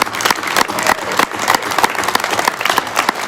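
A crowd at a political gathering applauds veterans, a brisk burst of many hands clapping close and fairly loud, with irregular sharp claps standing out across the whole stretch.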